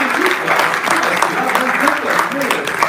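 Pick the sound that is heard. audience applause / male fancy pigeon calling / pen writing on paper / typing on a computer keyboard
audience applause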